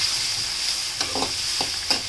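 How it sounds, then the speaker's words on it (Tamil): Onions sautéed on a high flame for Kashmiri tomato chutney on a houseboat, a steady close hiss of frying with a few scraping stirs of a spoon near the end. "ஹை ஃப்ளேம்லே வதக்குறீங்க."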